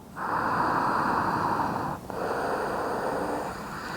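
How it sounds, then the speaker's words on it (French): Deep, steady breathing during a vinyasa yoga flow: a long, close, airy exhale of about two seconds, a brief pause, then another sustained breath, with no talking. "Prenez une dernière respiration là."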